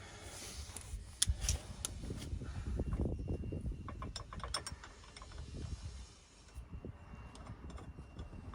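A ratchet tightens the bolts on the rear leaf springs of a Ford Transit van with repeated clicking pawl strokes that come in short bursts, close and fairly quiet.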